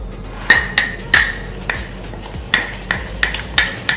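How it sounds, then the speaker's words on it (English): A utensil clinks and scrapes against a glass bowl while butter and ground cinnamon are mixed, giving about a dozen sharp, close taps at an irregular rhythm. "add the butter and some ground cinnamon. Now we have to mix this."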